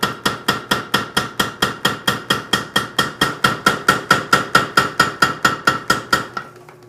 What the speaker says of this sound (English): the next step is cold forging